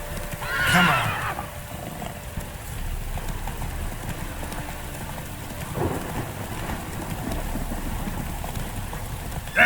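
Roach, the horse in The Witcher 3, gives a loud whinny over steady rain and rumbling thunder, then hooves clip-clop along at a gallop beneath the downpour.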